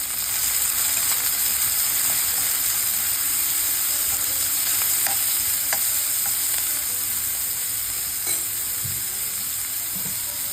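Onions frying in hot oil for Mumbai-style pav bhaji give off a steady, dense sizzle that runs throughout, close and even, with a few faint stirring clicks and no talking.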